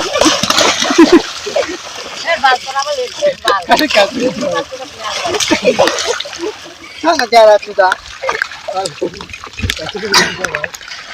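Village boys bathing in muddy water make repeated splashes and sloshing, scattered and close, mixed under constant lively chatter and shouting.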